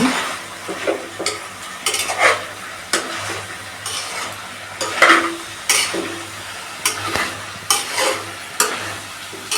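Mixed vegetables for veg biryani sautéing in a pan, with repeated scraping stirs and clanks of a spoon against the pot over a steady sizzle, close and moderately loud with no talking.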